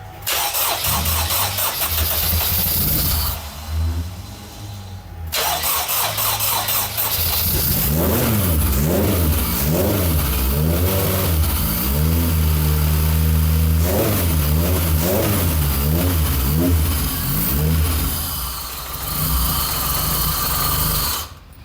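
A Honda K24 engine swapped into a Toyota MR-S race car starts and revs repeatedly, climbing and dropping in pitch in close, loud bursts before settling.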